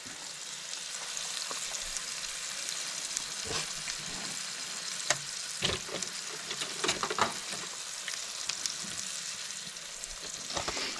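A thick steak sears in a hot pan, giving a continuous loud sizzle with scattered sharper spits and pops throughout.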